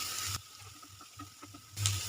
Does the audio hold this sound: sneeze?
no